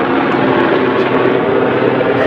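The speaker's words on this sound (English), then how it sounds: "I'm still listening to the helicopter." Loud helicopter flying overhead, a dense steady rotor and engine roar filling the scene without letup, with no talk over it.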